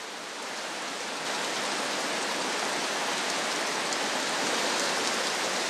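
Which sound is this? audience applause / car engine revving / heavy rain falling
heavy rain falling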